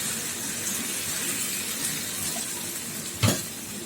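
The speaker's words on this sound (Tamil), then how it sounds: "இப்போ தண்ணி ஊற்றி சாம்பார் காய் வேக வச்சுக்கலாம்" A steady, hissing wash of water pouring into a cooking pot of sambar vegetables runs throughout, ending with a brief sharp clink near the end.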